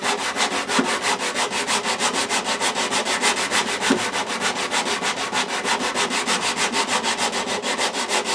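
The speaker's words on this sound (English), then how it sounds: "I usually kind of sand on an 8 count." Wood is hand sanded on a guitar under restoration, the sandpaper rubbing back and forth in a steady, even rhythm of quick strokes, close and clear without any talking.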